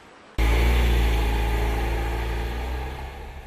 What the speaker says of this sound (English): When the Nano's small engine is running hard, it can be quite noisy.